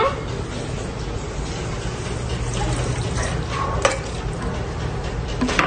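Water poured into a cooking pot while making crystal sugar, a steady near pouring and splashing wash with a couple of brief clinks near the end.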